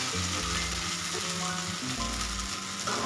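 Okra (bhindi) goes into a pan of well-roasted spices with a loud, continuous sizzle and frying crackle, close up, with no talking.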